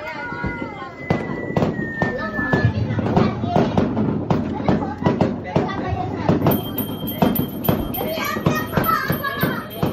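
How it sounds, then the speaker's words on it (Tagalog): Dense, rapid crackling and popping of New Year fireworks exploding continuously, with excited voices and cheering mixed underneath throughout. "Sa fireworks?"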